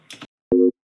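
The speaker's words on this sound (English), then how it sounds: "So with just those sine waves and no effects, this is what it sounds like." A single short, steady electronic tone from detuned sine wave synths sounds after a brief soft noise, buzzy with close harmonics, then stops abruptly into silence.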